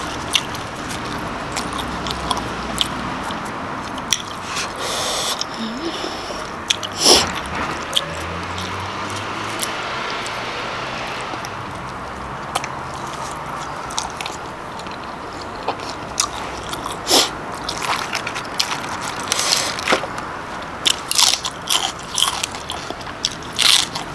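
Salmon koi with crisp fresh garden vegetables being eaten outdoors, with crunchy biting and chewing that comes in repeated bursts, close to the listener, over a steady background hum.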